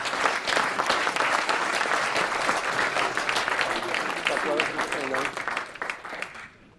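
A workshop audience breaks into brisk applause as a speaker comes up, loud and close, with some voices mixed in before the clapping tapers off at the end.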